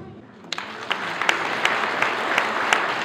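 An audience breaks into dense, sustained applause at a motorsport federation award ceremony after a quiet start, the clapping swelling and staying loud and continuous.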